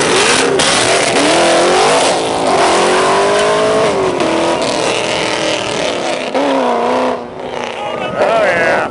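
A 6.2-liter Chevrolet Corvette V8 revs and accelerates hard, the engine note climbing and shifting through gears as the car pulls away from a muscle car show, loud and close with voices talking over it.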